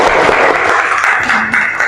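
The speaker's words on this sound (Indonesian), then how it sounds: "kita kasih aplaus ya" A classroom audience at a university teaching session claps together in a loud, dense burst of applause that lasts under two seconds.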